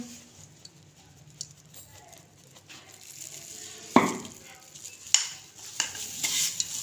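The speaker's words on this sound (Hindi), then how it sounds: "इसको हमने कर लेना है अच्छे से मिक्स।" Roasted semolina, coconut and ground sugar for sooji laddu are stirred together, making soft, uneven scraping and grainy rustling with a few sharper clinks against the pan.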